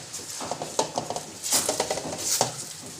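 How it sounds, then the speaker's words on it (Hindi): A spoon stirs chicken in a handi pot, scraping and clinking against the metal in irregular close-up knocks and rattles with brief pauses between strokes. "अब इसको हम अपनी कूटने के बाद इसको हम अपने हांडी में डाल देंगे। फिर से इसको चलाएंगे चम्मच को।"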